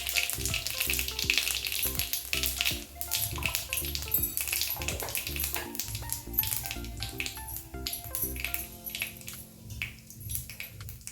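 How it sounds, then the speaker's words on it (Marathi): Cumin and asafoetida crackling in hot oil for a quick vegetable dish: a steady, dense sizzle with fast popping and spitting, close and continuous throughout, with no talk. "थोडे जिरे हातावर चोळून घालायचे जिरे हिंग घालून घ्यायचे"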